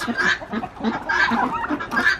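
Ducks and geese quack and honk in a farmyard enclosure with a rooster among them, a steady run of repeated calls close by, several birds overlapping.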